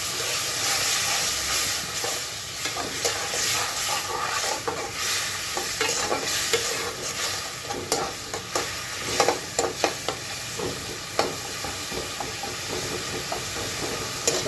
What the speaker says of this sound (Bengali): কষিয়ে নেওয়ার জন্য একটু পানি দিয়ে নিচ্ছি